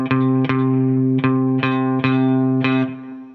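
An overdriven electric guitar strums sustained chords in a steady rhythm, six sharp attacks ringing into each other, loud and close with no voices.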